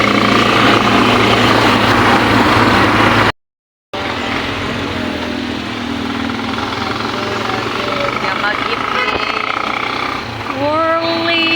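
Steady engine drone inside an airplane during flight, a loud broadband roar with a constant low hum, briefly cut out and then resuming, while people talk nearby and a faint whistling tone rises near the end.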